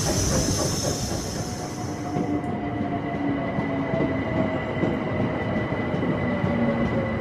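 A train rolls into Hackney Station with a loud rumbling rattle of wheels on rails and a fading high hiss, steady and close throughout.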